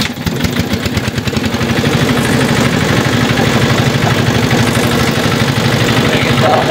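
A motor boat engine catches and settles into a steady, loud, throbbing idle with a fast rhythmic pulse, close by and continuous throughout, with no clear talk over it.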